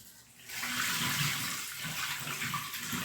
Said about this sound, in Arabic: نغسل الحمص بالكدا